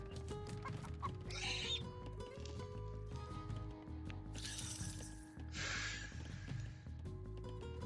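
Chickens cluck repeatedly in the Age of Mythology strategy game, soft scattered clucks over a steady low game-ambience hum, with occasional brighter bursts of clutter between them.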